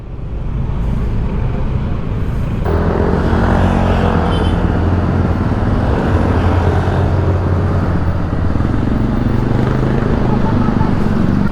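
Steady road traffic in Bulacan, with continuous loud engine rumble from passing cars and other vehicles close by, constant throughout without pauses.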